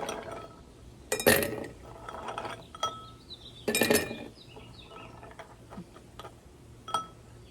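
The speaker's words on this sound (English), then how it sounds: "So the first step is to add some ice to the glass." Ice cubes drop into a cocktail glass for a champagne cocktail, giving two bright clattering bursts followed by scattered lighter clinks and ticks, close and clear with no talk.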